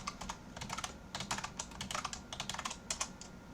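Password being typed on a computer keyboard, a quick, close run of light key clicks in an uneven rhythm, quiet, with no voices.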